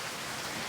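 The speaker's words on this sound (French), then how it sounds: "ça pleut, ça pleut, ça pleut, ça pleut, ça pleut" Heavy rain pours down at night in Tahiti during a deluge, a dense, continuous hiss of downpour that stays steady and loud the whole time with no voices.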